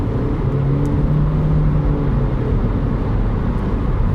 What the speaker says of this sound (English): This is what a CVT sounds like. I'm doing 56 miles per hour and I put my foot down.